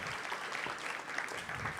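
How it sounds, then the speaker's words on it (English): Faint, steady applause from an audience at a university summer writing program faculty reading, a short continuous patter of many hands. "One more round of applause for Cass and Stephen and Amy"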